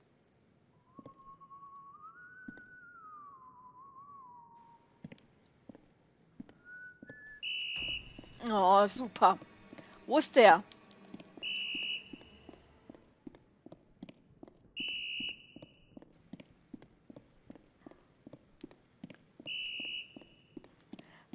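An enemy whistles a short repeated tune in the horror video game White Day, set in a school, sounding as faint bursts at intervals over footsteps while someone talks.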